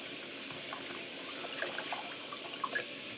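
Vegetables rinsed in water at a kitchen sink: a soft steady stream with small splashes and trickles, close and quiet, with no talking.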